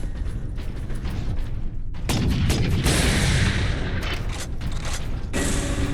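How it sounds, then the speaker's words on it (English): Missile launcher firing in Space Marine, heavy booming blasts with mechanical clatter, a sharp loud burst after a brief lull and further rumbling impacts. "Missile launcher."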